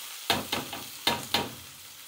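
Onions dropped into hot oil hiss in a few quick bursts, roughly four or five short sizzling flares that fade between them, fairly quiet and close.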